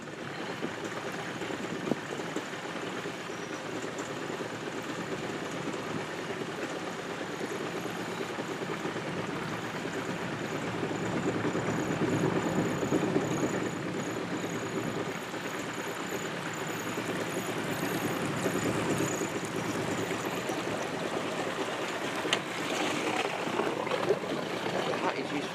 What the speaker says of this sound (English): Anette och Kent hade med kustbevakningen här i sin lilla båt.